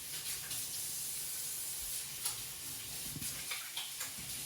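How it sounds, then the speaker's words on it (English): Hands are rinsed under a running kitchen tap, a soft continuous hiss of flowing water with a few light splashes and clinks as the hands move through the stream, fairly quiet and close. "Let me just rinse my hands off for a minute."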